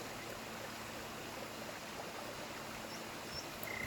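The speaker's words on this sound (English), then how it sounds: "over here we've got our waterfall coming down into a nice little stream" Water from a Minecraft waterfall pours into a small stream, a steady, even rushing hiss that holds at a low level throughout with no voices.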